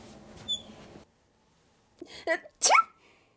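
A sharp, high-pitched little sneeze bursts out near the end after a quiet pause, preceded by some brief rustling and a soft voice.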